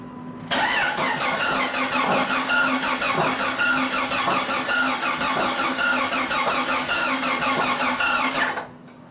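A 1999 Jeep Cherokee engine cranks steadily for about eight seconds to pump fluid out of the cylinder, a loud, rhythmic starter churn that begins abruptly and cuts off just as sharply.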